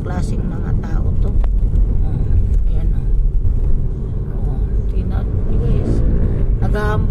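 Loud car engines rumble and roar past nearby in Cuyambay, Tanay, Rizal, in a continuous, heavy stream, with revving bursts rising over the din.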